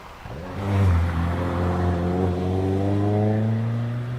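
A Renault Clio 182 race car at a hillclimb accelerates hard, its engine note climbing steadily through the gears, loud and close with no talk over it.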